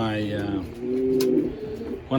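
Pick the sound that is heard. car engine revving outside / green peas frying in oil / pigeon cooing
pigeon cooing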